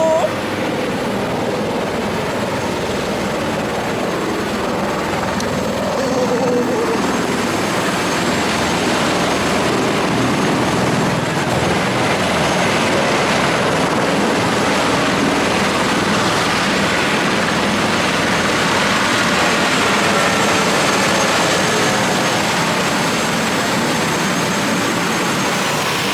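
Steady loud helicopter roar during a sightseeing flight over Las Vegas, a dense continuous rotor and engine wash filling the whole stretch with no break.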